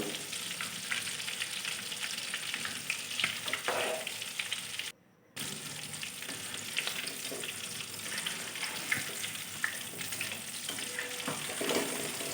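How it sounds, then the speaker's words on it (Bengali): Egg-coated prawn fritters fry in oil over medium heat, giving a dense, steady, close sizzle that runs throughout with only one brief dropout near the middle. "আমি এগুলো একদম মিডিয়াম আঁচ রেখে ভেজে নেবো কারণ এর মধ্যে চিংড়ি মাছ আছে"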